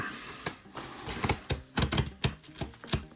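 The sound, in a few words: unboxing Blue Yeti Nano microphone packaging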